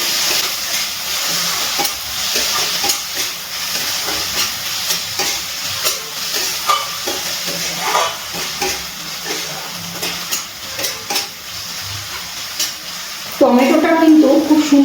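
Tomatoes, salt and spices fry and sizzle steadily in a pan while being stirred for chicken keema masala, with scraping strokes throughout and a louder burst of sizzling near the end.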